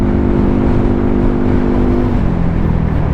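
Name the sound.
Yamaha NMAX scooter engine while riding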